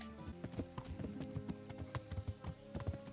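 Horse hooves in Kingdom Come: Deliverance clop in a brisk, uneven walking rhythm, fairly quiet and close, with a soft tonal hum of game ambience beneath and no voices.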